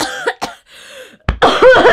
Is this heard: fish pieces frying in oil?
no